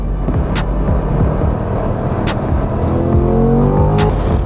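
A 2020 Chevrolet Corvette C8 accelerates hard around the Monticello Motor Club race track, its engine loud and close with a steadily climbing pitch through the gears, over constant road and wind roar.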